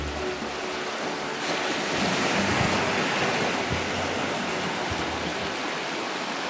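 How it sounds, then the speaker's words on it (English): Gentle waves lapping on a Mediterranean shore in the Camargue, a soft, continuous wash of surf with mild swells, heard alone without voices. "the gentle lapping waves of the Mediterranean"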